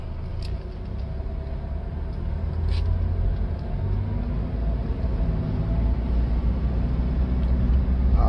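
A 2009 Hyundai Grand Starex 2.5 diesel MPV with a manual gearbox pulls away and drives, its low engine drone and road rumble building steadily from inside the cabin.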